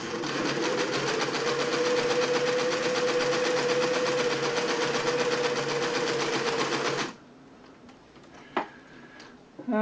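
A Singer 600E sewing machine stitches steadily at close range for about seven seconds in a fast, even mechanical whir, then stops, leaving quiet handling noises and a single sharp click.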